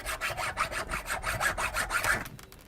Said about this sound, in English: we're just going to use a hacksaw, and you just hacksaw it right off